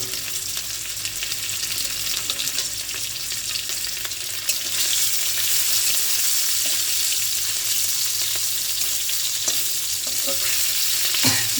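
Fish frying in a pan, a strong continuous sizzle close up that swells louder partway through, with a few light clacks from stirring.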